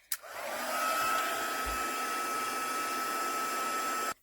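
A heat tool blows steadily to set ordinary embossing powder stamped on a napkin-scrap craft piece, a loud continuous whirring hiss with a faint whine that runs alone for about four seconds, then cuts off.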